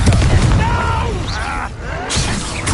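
An Incendio fire spell blasts in Hogwarts Legacy, a loud, dense roaring whoosh sustained throughout with a fresh burst toward the end, mixed with combat noise.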